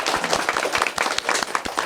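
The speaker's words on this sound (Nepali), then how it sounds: "फेरि पनि पुनः जोरदार तालीले स्वागत गर्न चाहन्छौँ" An audience claps warmly to welcome a singer at a cultural hall gathering, a dense burst of steady applause from a close crowd.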